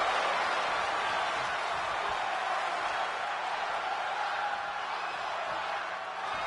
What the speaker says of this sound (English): And the crowd chanting one more time.